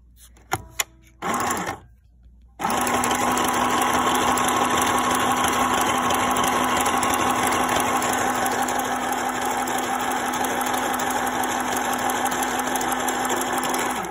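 A Janome New Home mini sewing machine runs a letter G stitch, starting after a few short clicks and knocks and then whirring steadily and loudly for the rest of the clip with no talking.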